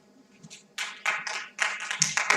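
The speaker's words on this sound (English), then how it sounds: "Let's do those claps together" Scattered hand claps from a small live audience at a research institute event, starting sparse and building into a short burst of applause, fairly close.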